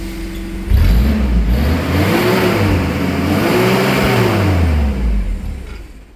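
A truck engine that won't shut off runs close and loud, rising into a revving surge, holding a steady droning roar with wavering pitch, then easing slightly toward the end; no voices.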